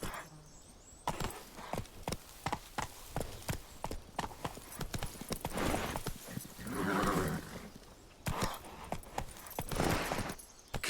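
Roach, the horse in The Witcher 3, trots with clear, evenly spaced hoof clip-clops, near and distinct, pausing midway under a swell of ambient sound before the hooves resume.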